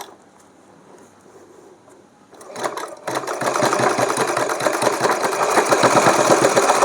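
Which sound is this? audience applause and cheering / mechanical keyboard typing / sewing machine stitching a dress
sewing machine stitching a dress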